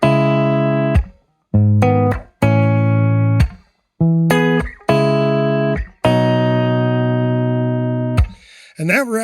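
Clean electric guitar through a cabinet miked with a KM84 one inch off the cap and a Royer 121 four inches off the cone edge, sustained chords and short stabs with pauses between, ending with a brief voice.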